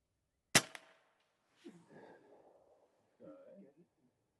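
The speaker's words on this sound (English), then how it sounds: "I'm going to try and shoot the right edge of that card." Single sharp crack of a Girardoni air rifle firing at a playing card, close and loud, with a quick echo, followed by people talking.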